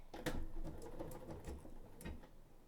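A BERNINA sewing machine with a binder attachment stitches fabric strips, giving a faint, quick, even patter of needle strokes over a couple of seconds.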